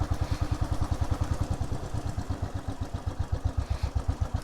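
A Royal Enfield 535 Fury motorcycle chugs slowly across a footpath, its single-cylinder engine thumping in a steady, even rhythm close by at low revs, with no voices over it.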